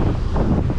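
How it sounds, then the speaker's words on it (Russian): Strong wind at the beach roars across the microphone in a heavy, continuous rumble, with a hint of surf beneath. "Ветер очень сильный."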